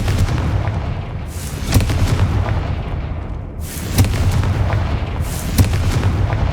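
Fiery Confringo spell blasts in the Hogwarts Legacy video game, a run of loud booming bursts roughly every second or two over a steady rumbling game soundscape, with no talking.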